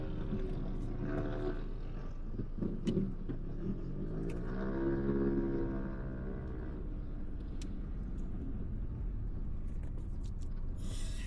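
The 0.8L gasoline engine of a 2013 Hyundai Eon runs steadily from close by, with a low continuous drone that briefly rises in pitch as it revs and then settles back, and there is no talk.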